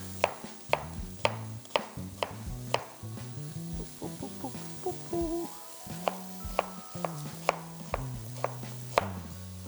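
A knife chops onion on a cutting board in a run of sharp, evenly spaced taps, close and clear, with a low hum beneath and no talking.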